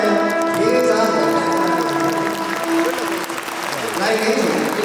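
Applause from guests at a traditional Rakhine wedding, a continuous wash of clapping with voices talking over it.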